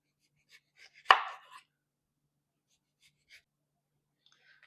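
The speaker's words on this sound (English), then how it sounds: "So we're gonna make some lemon slices, okay? Thin slices just for the fish not to stick onto the sheet pan" A knife cuts lemons into thin slices with one crisp, bright chop near the start and a few lighter, faint knocks scattered after it, close and quiet.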